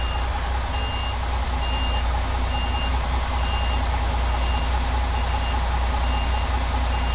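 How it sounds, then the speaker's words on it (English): A truck's reversing alarm beeps in an even, repeating rhythm, about seven evenly spaced tones, over a loud steady engine and road rumble. "We've got another truck coming down."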